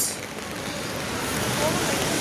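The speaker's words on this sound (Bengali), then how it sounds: "বৃষ্টির আওয়াজ" Heavy rain falling at night, a dense, steady broadband hiss with no distinct drops, close and fairly loud throughout.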